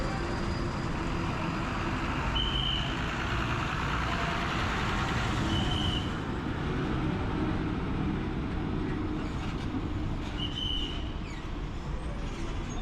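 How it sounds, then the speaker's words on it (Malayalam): A Karnataka KSRTC bus bound for Bangalore idles at Palakkad bus stand, its engine a steady low rumble with surrounding station noise and a few faint high squeals. "Karnataka K S R T C ബസ്സാണ് ബാംഗ്ലൂരേക്ക് പോകുന്ന ബസ്സാണ്"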